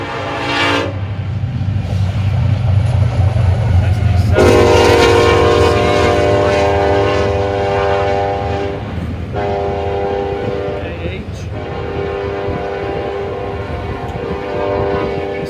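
A westbound intermodal freight train with blended locomotive power passes close by at Oak Harbor, its horn sounding in several loud blasts over the heavy rumble of the engines and cars.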